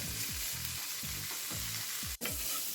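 Ham pieces fry in a hot pan with a steady, bright sizzle, low thudding stirs recurring every half second beneath the crackle, and one brief sharp click near the end.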